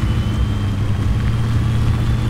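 A vehicle engine in Battlefield 4 gives a loud, steady low rumble with no clear rise in pitch, heard alone without talk.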